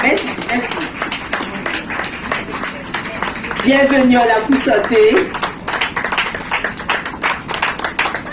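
A crowd at an outdoor health-day event in Guadeloupe claps for a speaker, brisk applause continuing beneath a voice and a brief sung phrase, then fading as he keeps talking.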